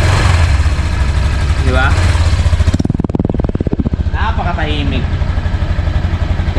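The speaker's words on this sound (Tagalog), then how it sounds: "ito yung andar ng makina niya para doon sa hindi nakakarinig pa" A 2024 Honda Click 125 Special Edition scooter idles with a steady, quiet low engine hum and light mechanical clatter, while a voice speaks briefly over it.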